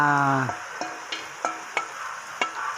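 Shredded chicken breast with chili sautéing in a pan, a steady close sizzle broken by five or six sharp scraping stir strokes at a loose, uneven rhythm, with no talking.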